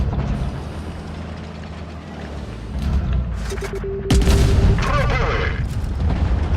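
Bursts of game gunfire and heavy booms over a rumbling background, with a loud blast near the middle and sharp shots trailing after.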